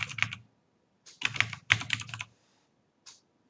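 Keys clacking on a computer keyboard while a SQL command is entered: quick close bursts of typing separated by short pauses, ending in a single isolated keystroke, quiet room, no voices.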